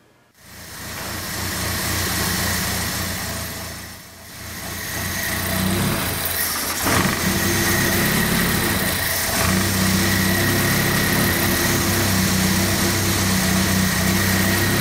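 A car engine fitted with a Zenith Stromberg 150CD4T carburetor idles steadily while its metering needle is adjusted, a close, continuous mid-pitched hum that dips briefly then settles at a slightly higher, even idle.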